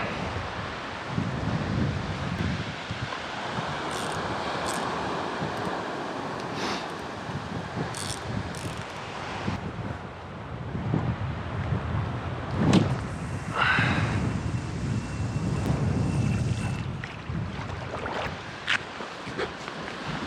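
Steady wind buffets the microphone on a beach during low-tide cod fishing, a continuous rushing roar with gusts rising and falling, mixed with faint surf, and no talking.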